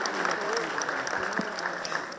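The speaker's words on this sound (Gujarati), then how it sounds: "ખૂબ બધી તાળીઓ સાથે આવકાર આપીએ." An audience at a book launch event claps to welcome a speaker, a dense, sustained wash of applause heard throughout at moderate volume.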